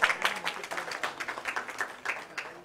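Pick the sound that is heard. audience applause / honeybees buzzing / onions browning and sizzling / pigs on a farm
audience applause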